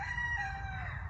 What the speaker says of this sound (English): you'll hear a cockerel in a minute gobbing off like a mother